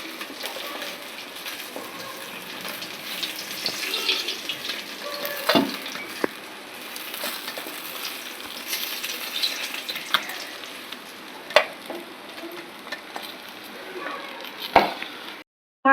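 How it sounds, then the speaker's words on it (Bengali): Fish frying in hot oil in a kitchen, a steady soft sizzle running throughout, with occasional clinks and scrapes of a utensil. "মাছ ভাজা হয়ে গেছে, মাছ কটা আমরা তুলে নেব"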